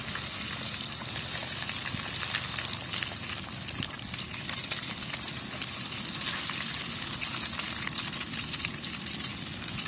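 A large goose egg fries in a pan with a steady, even sizzle and crackle that continues for the whole stretch, close and moderately loud, with no talking.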